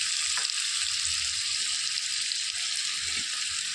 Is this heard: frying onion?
yes